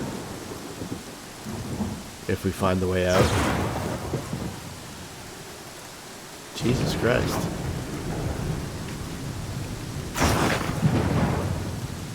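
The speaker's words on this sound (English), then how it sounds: "That's a super intense storm." Heavy rain pours steadily while deep rolls of thunder rumble through, with a couple of louder bursts; someone speaks briefly over the storm.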